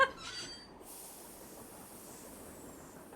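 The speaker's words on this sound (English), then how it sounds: "Okay, so that's a train." A train rolls along in a Nancy Drew video game, a steady, fairly loud low rumble that carries on without a break after a short, brighter burst at the start.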